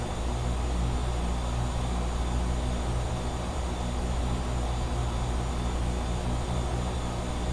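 A RealAir Duke twin propeller plane in a flight simulator drones with a steady, loud engine hum and propeller buzz, unbroken throughout with no talking.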